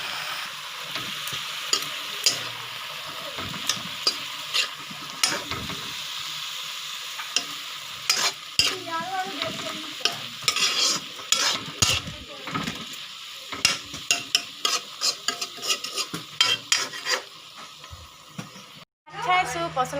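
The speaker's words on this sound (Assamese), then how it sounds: "শাকখিনি দিয়াৰ পিছত মই নিমখ দি ভালদৰে লৰাই দিছোঁ।" Cooked rice with greens and salt stirred in a frying pan, with a continuous sizzle and frequent spatula scrapes and taps against the pan, close and fairly loud, and a voice speaking over it.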